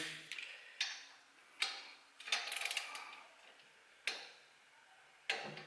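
A socket wrench torques bolts on a Lambretta scooter engine, giving a series of sharp, close metallic clicks and ratchet snaps spaced irregularly, one longer ratcheting burst in the middle, in an otherwise quiet room.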